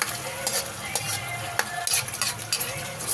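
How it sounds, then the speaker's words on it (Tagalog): Shrimp paste (alamang) sautéing in a pan in a home kitchen, with a steady close sizzle broken by repeated scraping and stirring clinks of a utensil against the pan. "ginigisa ko muna ito ang alamang"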